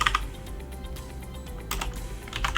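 Typing on a computer keyboard, entering text into a Word document: rapid, irregular clicks and key taps at close range, with a few louder bursts, no voices.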